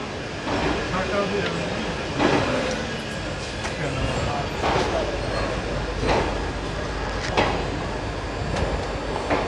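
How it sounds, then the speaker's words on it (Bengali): Gour Express 13154 pulling out of Malda Town toward Sealdah, heard from inside a coach: a steady rumble with regular rail-joint clacks recurring every couple of seconds, a voice talking over it. "অন টাইম ট্রেন ছাড়লো Gaur express 13154 Malda town two Sealdah"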